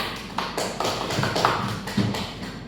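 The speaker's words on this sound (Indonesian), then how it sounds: "Beri aplaus dulu untuk teman-temannya ya" A class applauds in a classroom, with a dense patter of claps from many hands that stays steady for a few seconds and is not mixed with talking.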